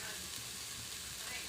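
Cashew paste frying in a pan, a steady soft sizzle with hissy crackle and no distinct pauses, faint and continuous.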